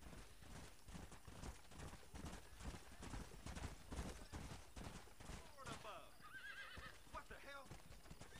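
Horses in the Red Dead Redemption video game gallop with rapid rhythmic hoofbeats, then neigh and whinny loudly near the end, while someone talks over the action.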